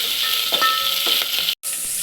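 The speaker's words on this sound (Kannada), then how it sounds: "ಈಗ ನಾನು ನಿಮಿಷ ಫ್ರೈ ಮಾಡಬೇಕು" Crushed garlic frying in hot oil as a tempering for tomato tamarind rasam, a steady close sizzle with light stirring scrapes, briefly cut out near the end.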